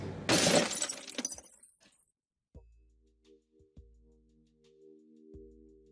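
Glass shatters loudly at the start of a Dream Daddy game scene, a bright crashing burst that fades within about two seconds, followed by a quiet stretch with soft low thumps and sustained tonal game sounds.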